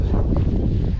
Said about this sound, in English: So it is first wind blowing